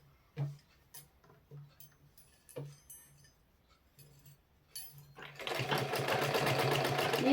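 A sewing machine stitches pleats into a salwar, first in a few short separate bursts with clinks between them, then running steadily and close for the last couple of seconds, with no talking.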